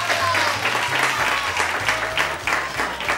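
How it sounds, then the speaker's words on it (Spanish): Studio audience on a Spanish TV variety show applauding steadily and loudly, a dense wash of clapping with a low music bed underneath. "Un aplauso al amor, amigos."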